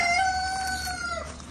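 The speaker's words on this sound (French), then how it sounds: "Oui, on sait que t'es là, le coq." A rooster crows once in a vegetable garden, a loud, drawn-out harmonic call lasting over a second, close by with no talk over it.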